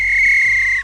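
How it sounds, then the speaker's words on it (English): A man blows a single sharp whistle close by, a steady piercing tone held for under a second before cutting off, with no talk. "A jolly man with a whistle around his neck walked up to the table and blew the whistle."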